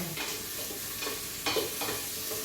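Onions and garlic sautéing in a pan for pork menudo, with a steady soft sizzle and a few louder stirring scrapes and clinks near the microphone.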